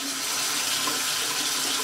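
Paint brushes rinsed under a running tap, a steady, close hiss of flowing water splashing into a sink throughout, with no talking.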